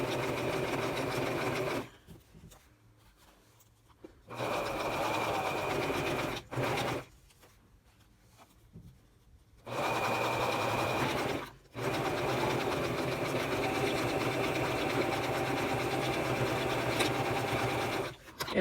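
A sewing machine stitches through yarn and fabric in repeated bursts, running steadily for a few seconds, stopping, then starting again as it goes back and forth, with a brief spurt between longer runs and quiet gaps.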